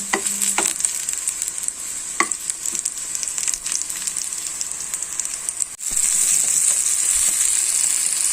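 Brinjal (eggplant) frying in a pan for a chutney, giving a loud, constant sizzle with a few sharp stirring clinks and no talk.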